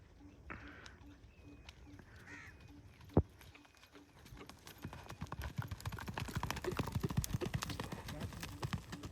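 A horse clip-clops along at a steady walk, its hoofbeats growing closer and louder over the clip, while crows caw in the background and faint voices come and go.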